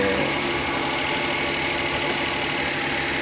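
A freshly overhauled engine idling steadily, a constant close rumble with even vibration and no change in pace, heard alone without any talking.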